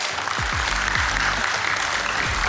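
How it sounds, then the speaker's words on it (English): Guests at the inauguration of an honorary consulate break into loud, dense applause, with gliding low musical tones sounding underneath. "Let us now welcome this exciting new chapter with a huge round of applause."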